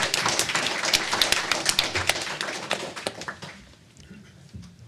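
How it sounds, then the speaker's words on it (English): Audience applause after a talk on child protection and children's rights, a burst of sharp close claps from a crowd that thins out and fades away near the end. "Round of applause."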